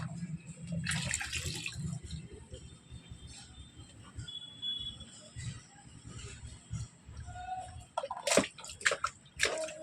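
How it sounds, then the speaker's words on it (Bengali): Water sloshes and splashes as it is poured from a mug over a child's head during a bath, with continuous watery movement, a burst of louder splashes near the end, and an adult speaking over it. "মাথায় মগে করে জল নিয়ে মাথায় দাও"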